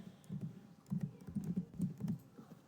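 Computer keyboard typing while writing Python code, a quick series of soft, close key taps in short uneven bursts, fairly quiet, with no speech over it.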